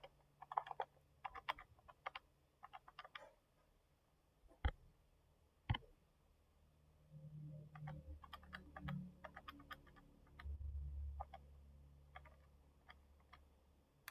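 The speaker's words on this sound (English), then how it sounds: "you type that into your calculator" Numbers are tapped into a calculator during a physics problem, faint scattered clicks of small keys in quick bursts with pauses, against a quiet background with some low rumble.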